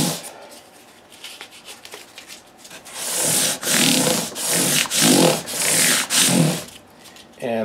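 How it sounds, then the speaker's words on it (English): Hand sanding of a Martin D-16 guitar neck with 600-grit sandpaper wrapped on a block: quiet strokes at first, then a run of loud, rhythmic rasping back-and-forth passes, close up, with no talking. "I kind of slip it along the block so I get maximum use out of the sandpaper."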